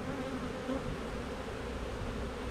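A dense, steady hum of many honeybees buzzing around hive frames at close range in Jamaica, continuous and droning with no voices.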